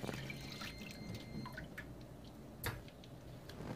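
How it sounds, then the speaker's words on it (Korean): Blanched bean leaves are rinsed one at a time in water, giving soft splashes, drips and wet squishing sounds with a brief louder splash, quiet and close. "깻잎 씹듯이 한장한장 이렇게 씻으면 돼요."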